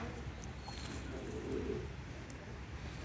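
Sherazi pigeons coo softly in a loft, low and faint beneath steady background hiss, with a brief murmuring coo rising near the middle.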